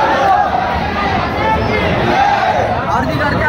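Pilgrims at a palkhi procession fill the air with a dense, steady hubbub of many voices, close and loud, with people talking nearby.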